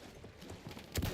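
Horse hooves in the video game Battlefield 1, a run of quick clip-clop steps building to a louder hoof strike at the end.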